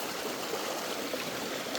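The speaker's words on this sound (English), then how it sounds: "I'm gonna explore the creek a little bit." A creek flows steadily near a lake on a day of unsettled weather, giving a continuous rushing hiss of water with no breaks or voices.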